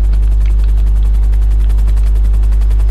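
Helicopter in the video game GTA V Online, a loud, steady, rapid rotor chop with a heavy low drone filling the whole stretch, close and constant with no talk.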